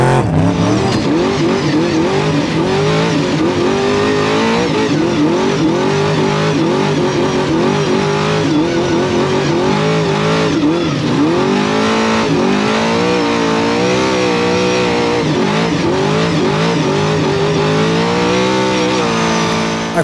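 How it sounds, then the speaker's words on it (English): Two-wheel drive off-road race truck from Herb Smith Fab with a Joe Gibbs engine and Mason-Matic 5-speed, revving hard and loud with rising and falling pitch sweeps through gear changes, close and continuous. "we're still in our two-wheel drive Herb Smith Fab truck with our Joe Gibbs engine with a Mason-Matic 5-speed behind it."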